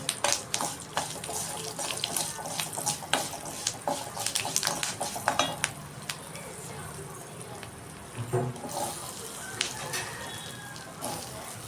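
Potatoes are rinsed under a running kitchen tap, with water splashing and trickling into a sink and sharp clatters and knocks scattered throughout, close by and fairly quiet.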